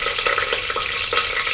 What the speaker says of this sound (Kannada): ಒಗ್ಗರಣೆ ಹಾಕೋಣ. ಒಗ್ಗರಣೆಗೆ 2 ಟೇಬಲ್ ಸ್ಪೂನ್ ಆಯಿಲ್,